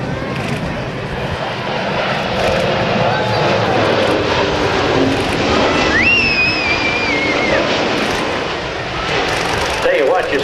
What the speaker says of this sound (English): Here he comes from the right, ladies and gentlemen, the C-17, the Globemaster 3